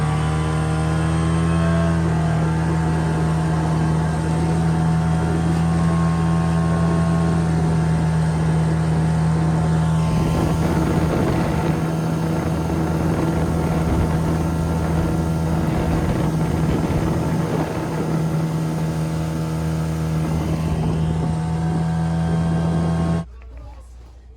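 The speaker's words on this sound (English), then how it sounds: "enjoy the sound and view from our dinghy finally up on plane" A dinghy outboard engine runs at speed, a loud steady droning hum with wind and water rushing over it, then it suddenly cuts off.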